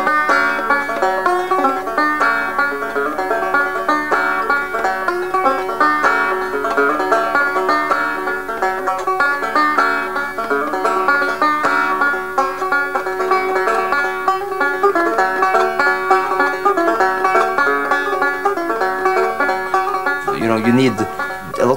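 Banjo in a custom tuning plays a bright, plucked melody with ringing, continuous rolls, close and steady for about twenty seconds with no talk.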